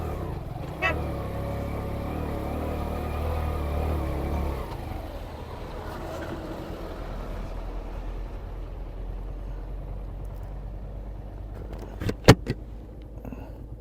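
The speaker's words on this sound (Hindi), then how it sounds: "ये और जीप आ गई सामने से।" A jeep approaching from the opposite direction on a mountain road toward Bashu Valley, a vehicle engine rumbling loudly at first, then fading into a steady low drone, with a couple of sharp knocks near the end.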